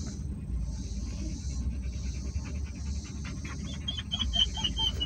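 A hot dog pants steadily inside a car on a country road, a fast, rhythmic breathy huffing heard close up over the low rumble of the moving vehicle, with no talking.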